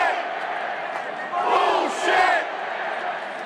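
A crowd shouts together in a loud, sustained burst of voices, swelling twice in quick succession as if chanting one word, with no other talk.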